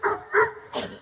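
A puppy gives three quick whimpering yips in close succession, near and fairly loud, with no talking over them.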